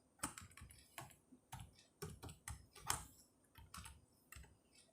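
Java code typed on a computer keyboard: quiet, close key clicks in uneven bursts, some quick runs and a few heavier taps, over several seconds with no talk.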